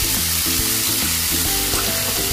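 Shrimp frying in melted butter with garlic and onion, a loud, dense sizzle crackling steadily up close throughout, with no voices.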